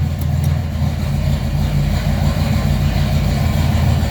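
A 1995 Mustang with a C4 automatic transmission runs steadily at idle as it is shifted into reverse, a loud, constant low engine rumble filling the whole stretch without any voices.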